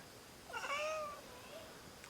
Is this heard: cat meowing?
yes